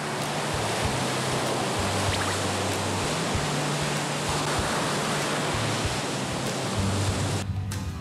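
Waves washing onto Gyeongpo beach in Gangneung on the winter East Sea, a steady close roar of surf and spray lasting throughout, with a low rhythmic rumble beneath the hiss and no voices.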